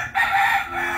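A rooster crows loudly and close by on a ranch shaded by orange and avocado trees in San Juan, Nuevo León, one sustained, strained call held for nearly a second.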